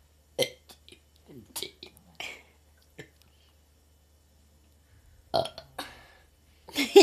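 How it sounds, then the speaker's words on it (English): A person burps several times in short, separate bursts, some sharp and loud, others softer, in a quiet room with brief soft vocal sounds in between. "You just burped and didn't say anything."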